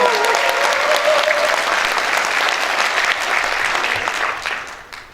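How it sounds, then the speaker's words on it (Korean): Loud, dense applause from the crowd at a youth party members' rally, sustained and even before tapering off near the end, with a faint voice briefly audible early on. "더욱더 큰 박수로 맞아주시면 감사하겠습니다"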